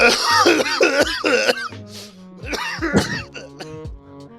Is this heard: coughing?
yes